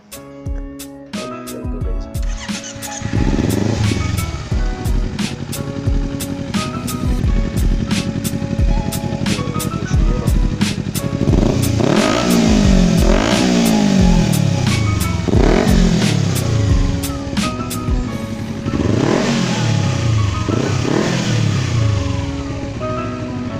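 Kawasaki Ninja 300 motorcycle with an electrical charging fault being ridden, the engine revving up and down through repeated accelerations and gear changes, loud and close with some rattle.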